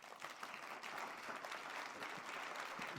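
A university crowd gives a dense, continuous round of applause for the event organizers at a state-of-the-university address, fairly faint and distant, with no talking over it.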